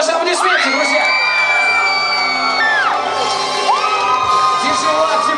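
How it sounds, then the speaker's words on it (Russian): An audience at a Mister INZhEK 2012 contest celebrates a winning contestant with loud, continuous crowd noise. Excited whoops and high shouts rise and fall throughout. "Влад Криплевец, ваши аплодисменты, друзья."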